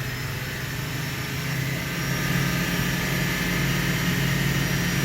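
A 2008 GMC Canyon engine held steady around 2,000 RPM gives a continuous, even drone that swells slightly louder halfway through, with no voices.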